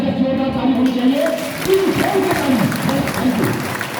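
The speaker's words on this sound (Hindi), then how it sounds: "तो एक बार मैं चाहूंगा जबरदस्त जोरदार ताली होनी चाहिए।" Audience applause in a hall at Ambedkar Bhavan, a loud sustained clapping that continues while a voice speaks over it.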